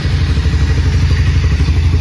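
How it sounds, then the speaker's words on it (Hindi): A 2024 Harley-Davidson X440 motorcycle engine idles close by, a loud, steady low-pitched throb with an even, rapid pulse and no other sounds. "ये यहाँ पे आइडियल सॉन्ग सुन रहे हैं"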